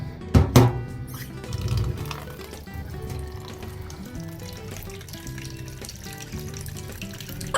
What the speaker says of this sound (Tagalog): Naglagay tayo ng water dito.